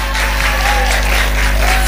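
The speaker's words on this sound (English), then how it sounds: "Let's give them a round of applause as they go backstage." Dense, continuous applause fills a singing-competition show as contestants head backstage, loud and close, with no pauses.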